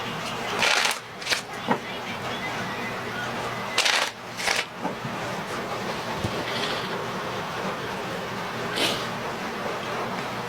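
Playing cards are shuffled in a few quick riffling bursts, close up, separated by pauses over a low background hum.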